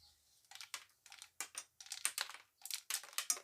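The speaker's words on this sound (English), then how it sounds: "you can hear them dropping on my cluttered workbench" Large white beans dropping one after another through a garden planting tool onto a cluttered workbench, a run of small, close, irregular clicks and rattles with short pauses between bursts.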